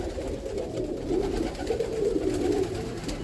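Roller pigeons in a loft coo steadily in a low murmuring chorus, with a continuous background hum and no talking.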